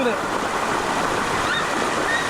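Water from the Krabi hot stream waterfall pours and splashes in a steady, broadband rush, close and constant, with faint bird-like chirps or voices barely showing through.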